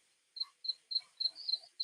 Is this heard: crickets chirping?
yes